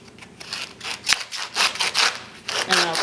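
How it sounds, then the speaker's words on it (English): Leaves are pulled and snapped off an artichoke, giving a series of crisp, close tearing and crackling rustles in irregular bursts, with a sharp snap partway through. "you just try to peel it down"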